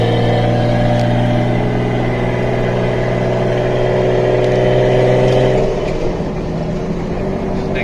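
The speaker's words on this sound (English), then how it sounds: "The sounds this car makes is also amazing." The engine of a 1972 Datsun 240Z Series 2 with a five-speed gearbox holds a loud, steady droning rev close by, then the pitch drops and the note eases off near the end.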